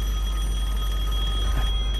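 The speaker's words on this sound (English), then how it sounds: "There's a phone ringing." An old working telephone booth rings in Devil May Cry 5, giving a steady electronic tone over a low, constant hum.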